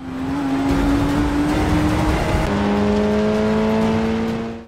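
A racing car engine in the Forza 6 video game drones with a steady, loud rising pitch, then shifts gear and keeps revving at a higher, sustained tone, continuous and up close with no talking.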